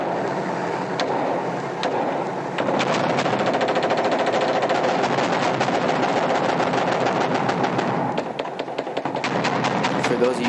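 Rapid automatic gunfire rattles continuously as shots are fired into a mosque in Iraq by US Marines, a dense, loud stream of cracks with short pauses.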